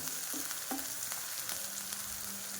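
Green chillies fry in a generous amount of oil, a steady soft sizzle with occasional spatula clicks and stirring scrapes, fairly quiet and close.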